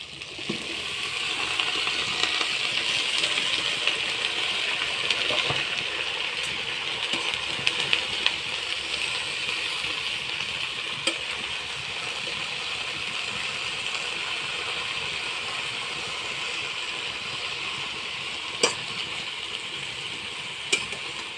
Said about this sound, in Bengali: এবার আমি শাকগুলো ঢেলে দেব।